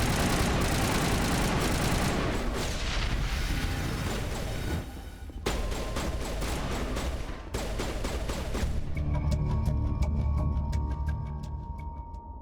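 Sustained heavy gunfire from a firefight in the video game Mass Effect, loud and dense bursts rattling continuously with brief breaks between volleys.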